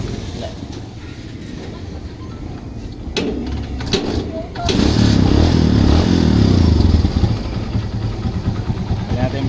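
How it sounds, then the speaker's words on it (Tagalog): Near the midpoint a Barako motorcycle engine with a weak charging system cranks and catches, then runs at a loud, rough idle, with a voice heard early in the recording. "Ating buhayin naman ang motor."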